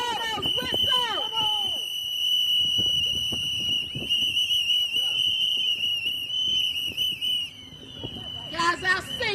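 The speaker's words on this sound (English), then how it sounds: "Blow those whistles." Many whistles blow together at a Juneteenth press conference in a long, shrill, sustained blast over crowd noise and shouting, with scattered shorter toots near the end.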